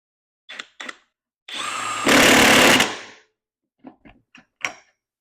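A budget DeWalt-compatible impact wrench tightens a lug nut on speed 1 torque: a sustained roaring whir of about a second and a half, with a few short sharp bursts before and after.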